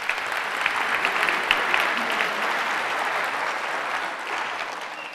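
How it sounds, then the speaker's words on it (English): Lecture-hall audience applauds after a magnet demonstration at the 1997 Faraday lecture, a dense, even wash of clapping sustained for several seconds, fairly close and loud. "Give him a round of applause for that."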